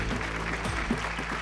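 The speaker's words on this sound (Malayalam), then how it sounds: "നന്നായിട്ടൊന്ന് കൈയടിച്ചേ" A studio audience claps on a Malayalam TV game show, producing a brief, steady patter of applause with a low hum and a voice underneath.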